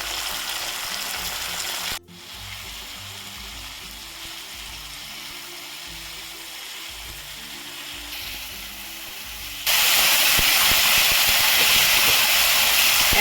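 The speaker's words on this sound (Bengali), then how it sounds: "মশলাটা আমি হাই হিটে ভেজে দিচ্ছি দু থেকে তিন মিনিট মতো সময় লাগবে" Masala spice mix frying on high heat in a pan gives a steady, loud hiss and sizzle, briefly cut off once, then rising to a harsher, brighter sizzle near the end.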